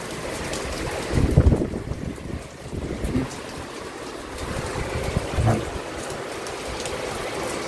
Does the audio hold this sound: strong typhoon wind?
yes